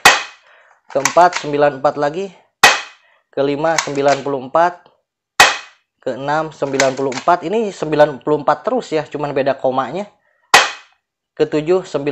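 Sharp, loud shots from a Tokyo Marui USP airsoft pistol during a chronograph test, three or four spaced several seconds apart, with someone talking between them.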